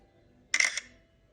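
A BlackBerry KEYone phone camera fires a single retro shutter click, one short, crisp burst close to the microphone, with a quiet background before and after.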